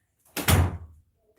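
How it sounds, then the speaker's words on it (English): A single door swings shut with a solid thunk and brief rumble, close by in a quiet room, with no talking. "Take your cat with you and close the door."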